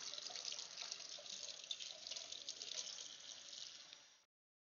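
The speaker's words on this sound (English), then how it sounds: "Any opinion on the water sound?" Water runs steadily from a kitchen tap during a home baking session, a continuous bright splashing hiss at moderate distance that cuts off abruptly near the end.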